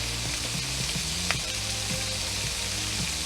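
Pepper steak stir-fry sizzles steadily in a hot pan as sauce goes in, with a dense continuous frying hiss and soft stirring knocks recurring throughout, no voices.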